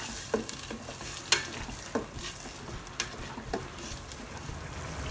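Ground spice paste with lemongrass fries in oil for Penang Indian-style pasembur, a steady soft sizzle with intermittent scrapes and taps as a utensil stirs the pan.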